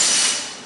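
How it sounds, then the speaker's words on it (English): A power drill bores a hole into single-layer drywall, a brief loud whirring grind that fades over under a second. "Drill the top hole first."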